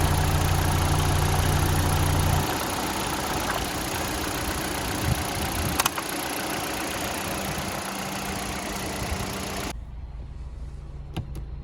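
A 1.4-litre petrol car engine idling steadily and quietly at close range, a smooth low hum that continues throughout with a slight change in tone partway through.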